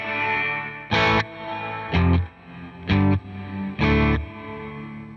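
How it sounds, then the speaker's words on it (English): An electric guitar through a Line 6 Helix with the Dynamic Bloom reverb plays four short, distorted chord stabs in an even rhythm, each followed by a swelling, lingering wash of reverb in the gaps between hits. "The new reverb is called the Dynamic Bloom."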